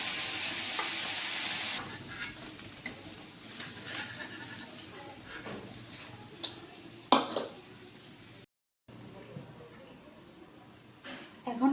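Fish fries in a pan for a kachur loti dish, a close sizzle with stirring scrapes and a sharp clatter, broken by a short silence near the end.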